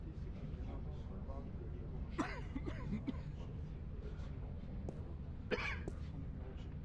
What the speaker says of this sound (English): whoever's coughing, take a cough drop